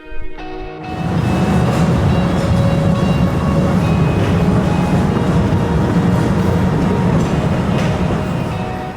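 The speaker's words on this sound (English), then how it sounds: "Your first experience of the cave is an electric train which takes you deep into the cave" A steady, loud rumbling roar of an electric train running deep into a cave in Slovenia, with constant low mechanical drone and faint squeals over it, after a brief quieter start.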